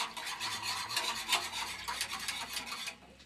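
A whisk stirs a mixture in a bowl while baking Valentine's Day treats, a steady scraping, rasping rhythm up close that runs continuously for a few seconds before stopping.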